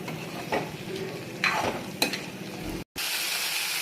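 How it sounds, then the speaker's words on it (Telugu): Chicken pieces sizzle in curry paste over a high flame while a spoon stirs them, giving a steady frying hiss broken by a few scraping strokes against the pan. "బాగా మిక్స్ చేస్తూ ఒక 3 minutes హై ఫ్లేమ్లో వేయించుకోండి."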